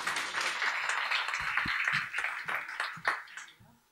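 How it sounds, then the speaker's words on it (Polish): Crowd applause with scattered hand claps, steady at first, then thinning and fading out at the end. "Z oklaskami jest od razu bezpieczniej"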